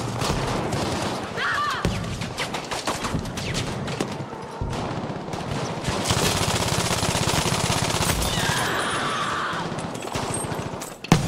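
Medium machine gun firing in Battlefield V on PlayStation 5: long, loud, sustained bursts of automatic fire with other battle noise and explosions mixed in, continuing almost without pause.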